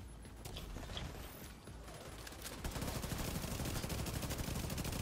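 Rapid bursts of gunfire from the Tom Clancy's The Division 2 video game, a dense fusillade of shots that grows louder and more continuous midway, with no talking over it.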